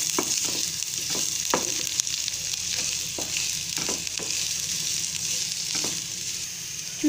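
Chopped onions fry in hot oil in a pan, a steady bright sizzle with occasional scraping clicks of a spoon stirring through them, close and continuous with no talking.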